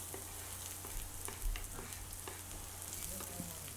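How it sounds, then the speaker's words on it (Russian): Steady quiet sizzling of chopped onion frying in hot vegetable oil in a frying pan, with occasional soft clicks and stirring sounds, no voices. "Выкладываем нарубленный лук и обжариваем 1-2 минуты до прозрачности"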